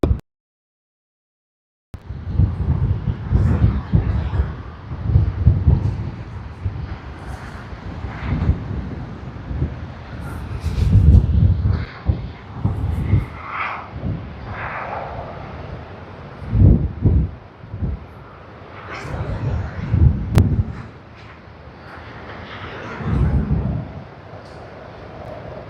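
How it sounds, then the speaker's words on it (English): Philippine Airlines Airbus A330-300 from Manila at Sydney Airport, a steady roaring rumble with gusty wind buffeting the microphone, swelling and easing in broad waves over about twenty-five seconds after a brief silent start. "we have Philippine Airlines that has come in from Manila"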